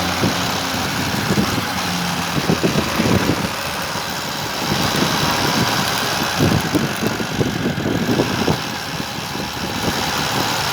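A 2 kW BLDC washing machine motor runs and accelerates, giving a steady loud mechanical drone with rough, rattling vibration throughout and slight swells in intensity.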